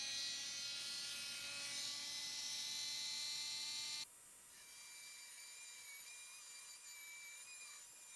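A carbon fiber tube is cut on a table beside a running shop vac collecting the dust, giving a loud, harsh grinding roar that stops halfway, leaving the steady drone of the vacuum alone.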